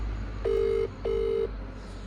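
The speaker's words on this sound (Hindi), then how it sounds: "तो मैंने अभी फ़ोन मिलाया उन्हें" Two steady electronic tones from a telephone as a call is placed, each lasting under half a second with a short gap between, heard fairly close over a low background hum, with no talking.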